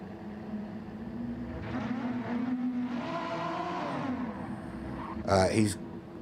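Race cars in the video game Gran Turismo 4, including a BMW, droning and whining under continuous commentary, with a brief sharper burst near the end.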